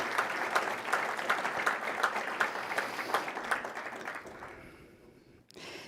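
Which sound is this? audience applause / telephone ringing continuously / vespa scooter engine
audience applause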